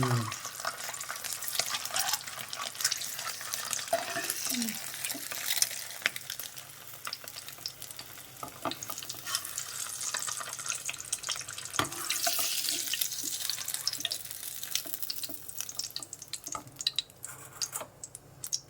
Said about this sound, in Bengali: তো ডিমগুলো আমি হালকা করে ভেজে নিচ্ছি।